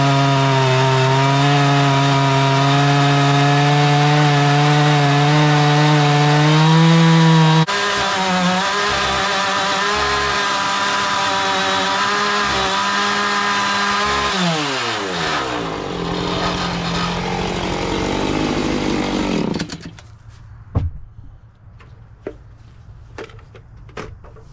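Gas chainsaw milling lumber, a loud, close, sustained high whine that drops in pitch as it bogs into the cut, then winds down to idle and cuts off, followed by a few faint knocks.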